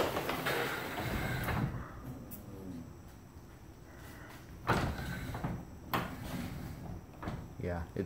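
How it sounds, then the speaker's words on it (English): A door slid back and forth by hand gives rumbling, rolling scrapes with a few sharper knocks, fairly close, and people talk over parts of it. "if I open the door a little bit by hand, I can kind of slide it back and forth."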